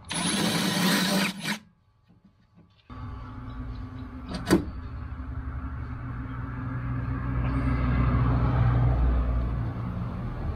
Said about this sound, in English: This one takes a 9mm drill for the pre-drill.